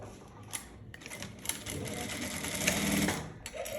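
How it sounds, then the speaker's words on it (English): Sewing machine stitching a trouser zipper fly, a steady close mechanical whir that speeds up and runs continuously after a few brief starts, with no talk over it. "Go to your machine. Then you stitch."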